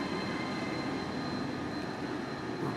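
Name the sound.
train at Preston railway station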